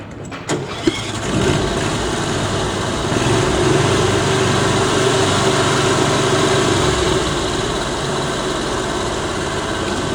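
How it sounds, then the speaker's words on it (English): Small engine on a Goodall 12 volt Start All model 610 starting with a sharp catch, then settling into a steady, loud, continuous running drone close by for about ten seconds. "So I'm going to start the engine first, let that warm up so it has good power"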